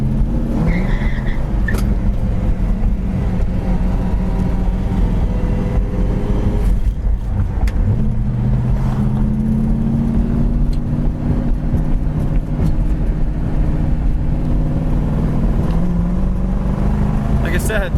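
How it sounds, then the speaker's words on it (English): A 1967 Ford Mustang Fastback with a small-block V8 and two-barrel carburetor drives along, its steady low engine rumble running throughout, with some tire noise. "Car really sounds nice too."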